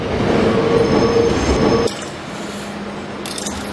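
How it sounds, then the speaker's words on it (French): A Tokyo metro subway train runs loudly with a roaring rumble and a high squeal of wheels, then drops abruptly to a quieter hum with a few clicks near the end. "Donc je prends juste le métro."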